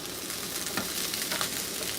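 Corned beef hash crisping in a frying pan gives a dense, steady sizzle with a few brief scraping sounds as it is turned, close and continuous.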